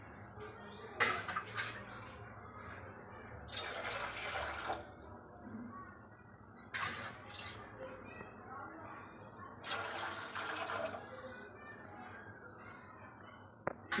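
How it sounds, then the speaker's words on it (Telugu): Water poured into a pan while preparing a no-fridge fruit jelly cake, with several separate bursts of splashing and filling over a low background hum. "3 గ్లాసుల వాటర్ పోసుకోవాలి."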